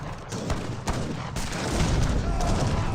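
Musket volleys and cannon booms from a battle in the video game Age of Empires 3 crackle and thud in repeated bursts over a steady roar of combat noise.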